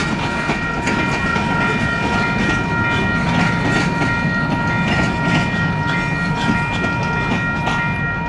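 Ontario Southland Railway locomotives roll past the old CP train station in Woodstock, Ontario, a loud, steady rumble with rail clatter and squealing tones that continues without pause, no voices over it.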